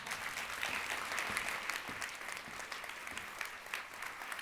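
An audience at a lecture applauds as a professor walks to the stage, steady dense clapping from a crowded hall that carries on at an even level throughout.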